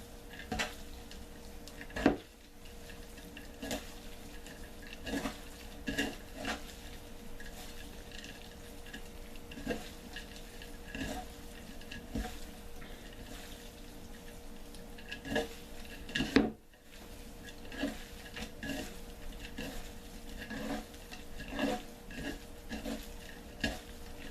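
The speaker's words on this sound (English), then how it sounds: "And then just start to mix this up all together." A utensil mixes eggplant with parsley and spices in a bowl, producing repeated close scrapes and soft clinks of utensil against dish in an irregular rhythm, with no talking.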